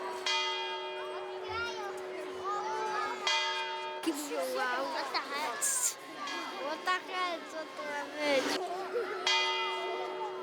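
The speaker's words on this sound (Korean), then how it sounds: "종소리와 함께 시계탑 위 문이 열리기 시작한다" Bells ringing from the town hall clock tower in a Polish city square at noon, steady resonant tolling over a crowd of children and adults talking and cheering nearby.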